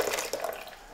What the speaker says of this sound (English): We'll submerge our mixture in cold water so that it gets cold